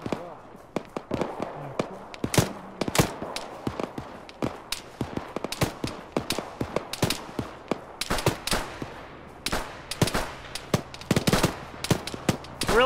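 Gunfire in the military video game Arma, many sharp loud shots in irregular bursts and single cracks, some close and some distant, with people talking between the shots.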